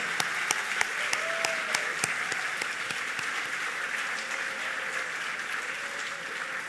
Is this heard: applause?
yes